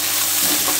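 Coconut rice is stirred in a hot pan, a steady close sizzling and scraping hiss with no talking.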